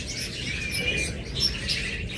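A pair of lovebirds at a bird seller's, giving thin, high chirps and short tweets over a steady background hum, fairly close and continuous.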